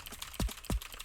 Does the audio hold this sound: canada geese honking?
no